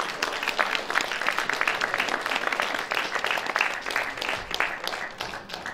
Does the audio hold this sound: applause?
yes